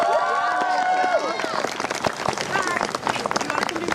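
Audience clapping and cheering for a singer at a Take Back the Night event, a steady crowd wash of claps mixed with chatter and voices throughout, fairly close and loud.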